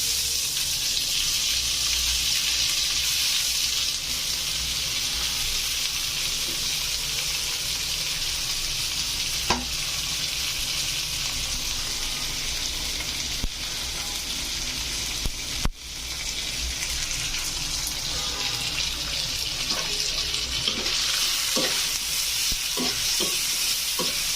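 Green chili and onion sizzling and frying in a pan, a steady loud crackle throughout with occasional stirring clinks and scrapes, no voices.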